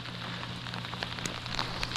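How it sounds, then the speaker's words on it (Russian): Steady rain falling outdoors by water where fish traps are being checked, a dense close patter with scattered sharper drops hitting a surface, continuous and without voices. "Идет дождь, одел парку, теперь он мне по барабану"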